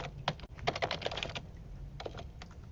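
Keyboard typing of a name into a search field, a quick burst of clicky keystrokes followed by a pause and a few more taps, close and clear with no talk.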